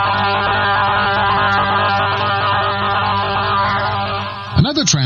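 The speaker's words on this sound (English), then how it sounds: "These are Russian jammers." A Russian shortwave radio jamming signal drones as a harsh, warbling wall of buzzing noise over a low hum, steady and loud, with a swooping squeal of interference at the end.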